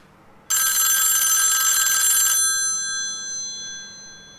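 A telephone in a Loki episode gives one loud electronic ring lasting about two seconds, and its bright tone decays slowly into a faint ringing tail.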